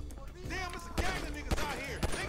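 Gunfire in GTA V on PC: three sharp, loud shots about half a second apart ring out over a steady bed of game sound and tonal effects.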